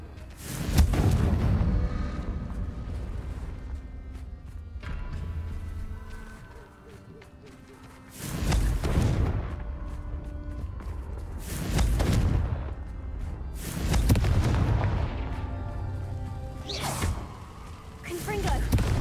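In Hogwarts Legacy, Confringo blasting-spell explosions go off about four times at spaced intervals as heavy booming blasts with rumbling tails, with some talk between them.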